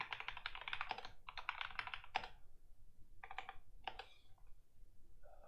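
Typing on a mechanical keyboard that has been stored away for a while, with bursts of dense, rapid key clacks separated by short pauses and a few lone strokes, close and clear with no talking.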